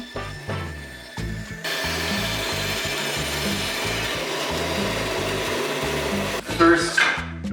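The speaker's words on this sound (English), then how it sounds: "so I'm gonna use the bandsaw" A bandsaw cuts an arch out of a wooden board, whining steadily as the blade works through the wood for several seconds, with the motor's rhythmic hum and brief pauses at the start and end.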